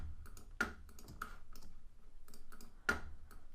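Sparse, light mouse clicks at an irregular pace while anchor points are selected and moved in Photoshop, close and quiet with a few sharper taps.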